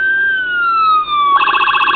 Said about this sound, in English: there's the standard traditional siren that's on these